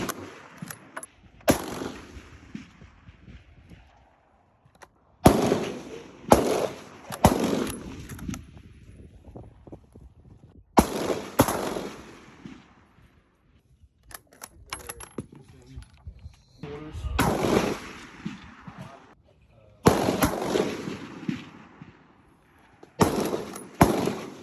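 Rifle shots ring out at a 600 yard range, with several sharp, loud reports spaced irregularly several seconds apart, some with echoing tails, plus handling clatter in between.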